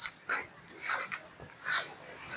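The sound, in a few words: dog barking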